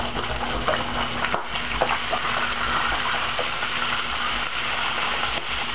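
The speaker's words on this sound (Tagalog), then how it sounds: "Once suminit na yung olive oil, ipa-pan fry lang natin yung chicken and na-dredge na natin sa flour." Chicken pieces dredged in flour pan-fry in hot olive oil, giving a steady, close crackling sizzle that holds evenly throughout.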